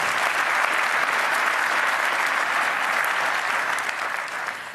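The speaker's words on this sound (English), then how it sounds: "There was a lot of applause there." A large audience at a business talk applauds loudly and continuously, a dense wash of clapping that holds steady and then begins to fade slightly at the end.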